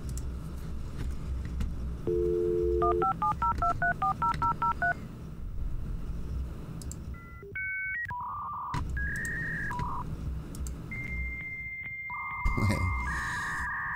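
Dial-up internet connection tones: a run of short telephone dialing beeps, then longer steady electronic tones and handshake squeals shifting in pitch, loud and up front over a constant low background hum, with no talking.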